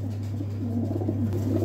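Chinese pigeons, a pair with fresh new feathers including a female, give soft low cooing against a steady low hum, close by and continuous with no talking.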